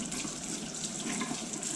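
Hot water pours steadily from a tap for washing a cast iron pan, a constant close hiss and splash with no talking.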